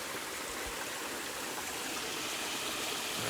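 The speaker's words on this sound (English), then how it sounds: "Got my own personal little waterfall and stream." A small creek stream and waterfall in the Talladega National Forest roar steadily up close, a dense continuous wash of flowing water with no other sounds.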